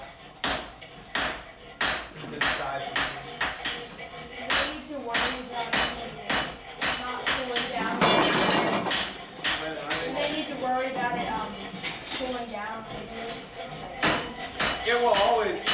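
Blacksmith drawing out an iron bar for an axe at a forge: loud, sharp metallic hammer strikes in a steady rhythm, ringing close by, with people talking in between.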